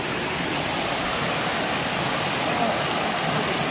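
Hot spring water gushing out of a large hole in a cave wall into a concrete pool, a steady rushing roar with no break.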